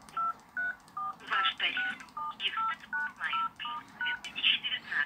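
Electronic DTMF keypad tones from a 2006 Samsung D900 slider phone, a run of short clear beeps in an uneven rhythm with brief pauses between presses, close and moderately loud, under a synthesized menu voice.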